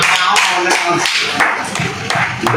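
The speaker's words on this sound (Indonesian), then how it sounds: "Tepuk tangan untuk Mas Nurajun" Audience at an Indonesian evening talk show in Tulungagung bursts into clapping, a dense, loud patter of many hands with sharp individual claps and light vocal noise mixed in, continuing steadily throughout.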